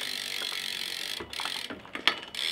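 Bolts on a BMX bike's cranks being tightened with a tool, producing faint clicking ratchet ticks and a few small metallic knocks, quiet and intermittent.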